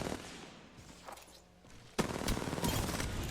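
R99 submachine gun firing in Apex Legends during a close chase, with a fast continuous rattle of rapid shots that starts abruptly and stays loud alongside other game noise.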